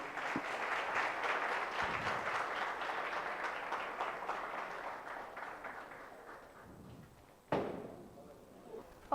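An audience at a project competition applauds a student team with steady, fairly soft clapping from many hands that fades after several seconds, followed by a brief knock or thump.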